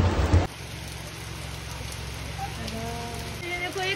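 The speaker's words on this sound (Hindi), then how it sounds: "बारिश बहुत तेज हो रही थी" Heavy rain pours steadily onto surfaces during a downpour in Himachal Pradesh, a dense continuous wash that follows a brief louder burst at the start, with faint background sounds and no clear voices.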